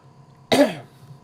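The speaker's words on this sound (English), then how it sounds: "Still got the cough." A single short, harsh cough from a person who is getting over an illness, close to the microphone during a livestreamed video game speedrun, over a faint background hum.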